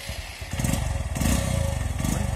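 A small motorbike engine in Vientiane runs up close, a steady throbbing putter that grows louder and fuller after about half a second and keeps chugging evenly.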